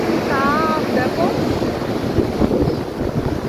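Strong wind blows at the seaside in Tajpur, buffeting the microphone with a loud, continuous roar and rumble, while faint faraway voices or a bird-like call briefly rise above it.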